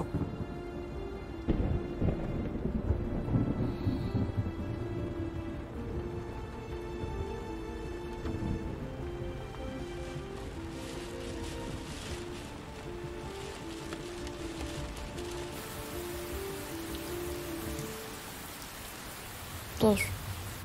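Steady rain patters on a car during a drama scene, a dense hiss under faint music and low rumble, with a sharp clatter near the end.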